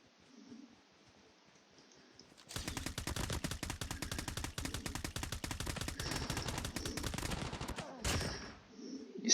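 Rapid automatic gunfire from Call of Duty: Mobile rattles in a dense, loud, sustained burst for about five seconds after a quiet start, then stops abruptly, with a brief final shot or two.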